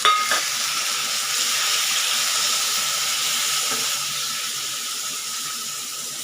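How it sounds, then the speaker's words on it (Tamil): Chopped tomatoes sautéing in oil in a pan for mutton gravy, with a steady close hissing sizzle and a couple of faint stirring clinks. "அதையும் சேர்த்து வதக்கலாங்க."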